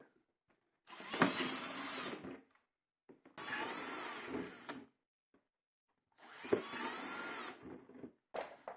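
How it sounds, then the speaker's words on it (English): A power drill whines in three separate bursts of about a second or two each, with short pauses between, close and harsh as it bores holes through a plastic worm bin. "So I'll just try to do that and just drill some holes here."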